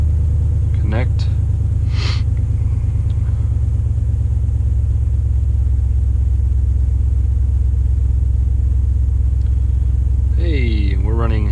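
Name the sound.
Jeep SRT engine running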